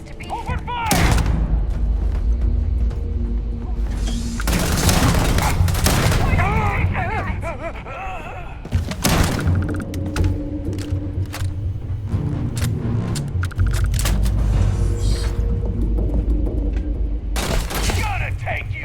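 Rapid bursts of gunfire and booming blasts from a Starfield firefight, loud and close, with repeated volleys and explosions mixed with shouted voices.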